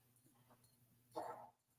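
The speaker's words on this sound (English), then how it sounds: "my dog's snoring, y'all" A dog snores, letting out one short, rough snort near the middle, close but quiet, over a faint steady low hum with no one talking.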